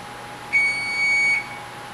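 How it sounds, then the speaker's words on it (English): A kitchen timer gives a single steady electronic beep lasting under a second during home pizza cooking, moderately loud in a quiet room with no one speaking over it. "You're not going to be beeping for 10 minutes, are you? Timer one."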